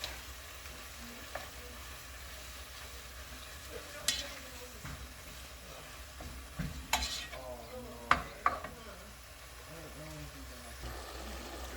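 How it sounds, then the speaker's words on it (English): Pork sautéed and stirred in a pan, with a steady low sizzle and intermittent scrapes and clanks of the utensil against the pan; some faint background speech is present. "you'll just mix it, saute it"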